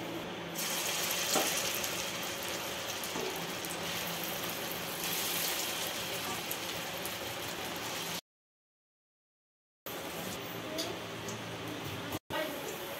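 Stuffed spiny gourd (kakrol) frying in hot oil gives a continuous, fairly loud sizzling hiss that cuts out briefly and then resumes, with a voice present at times.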